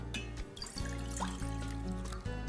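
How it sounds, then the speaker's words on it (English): Water being poured from a measuring cup into a cooking pot, a steady close trickle and splash running continuously for a couple of seconds with no talking. "Transfer your water from your measuring cup to your pot."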